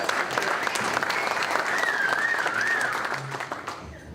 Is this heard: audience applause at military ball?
yes